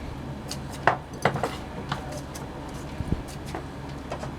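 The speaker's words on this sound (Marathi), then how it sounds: "बर्फ टाकून घेऊया आपण ग्लासामध्ये" Ice cubes going into a glass for homemade ice gola, a scattered series of sharp clinks and knocks at an irregular pace, fairly close and moderately quiet.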